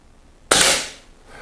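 A single sharp shot from an Air Arms S400 air rifle with a brown stock cracks out close and loud, then decays quickly into quiet.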